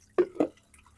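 Two quick water drips land a fraction of a second apart while water is being collected into containers, faint and close in an otherwise quiet spot.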